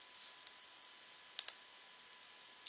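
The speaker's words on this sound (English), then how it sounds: "Double click." A computer mouse clicked in a quiet room, a few faint sharp clicks including a quick double click at the end.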